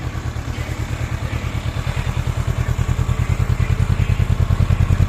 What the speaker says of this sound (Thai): มาฟังเสียงสตาร์ทกันก่อนครับ